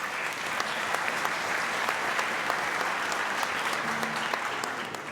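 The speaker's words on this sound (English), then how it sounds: "So thank yourselves with a big round of applause." An audience applauds at a holiday concert, a full, sustained round of clapping with sharp individual claps standing out before it fades at the end.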